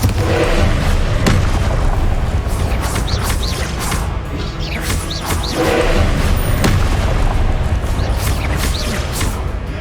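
In Hogwarts Legacy, a Confringo explosive spell blasts during combat. Loud, booming impacts crash repeatedly over continuous dense game action and effects.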